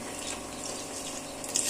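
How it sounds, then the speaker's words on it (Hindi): Milk pours from a pack into boiled rice with a little water left, a short steady liquid splash of moderate loudness heard alone. "इसमें डालते हैं आप दूध,"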